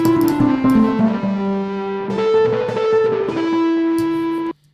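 Clean, undistorted instrument signal run through a tape echo effect pedal, sustained harmonic tones with echoing repeats layered over each other, fairly loud and steady before cutting off abruptly near the end.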